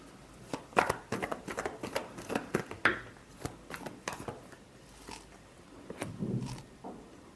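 Tarot cards being shuffled by hand, a quick series of crisp riffling snaps and soft slaps in irregular bursts, close and fairly quiet.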